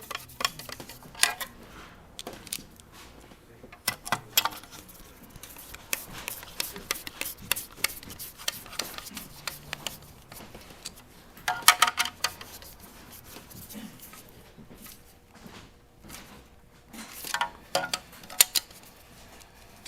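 A large Phillips screwdriver turns screws to fasten the belt guard on a Juki DDL-8700 industrial sewing machine, giving sparse close metallic clicks and scraping ticks in irregular bursts against a quiet background.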